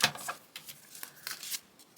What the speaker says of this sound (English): It shuffles pretty easily. I do riffle shuffle it.